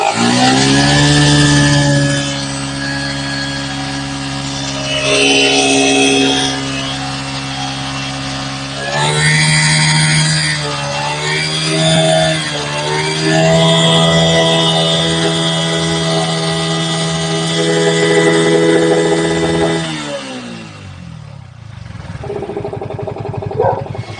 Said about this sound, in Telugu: radiator sound fan sound